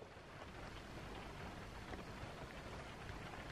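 Steady, soft rain falls continuously at a beach campsite by a motorhome at Playa del Charco, making an even hiss with no voices.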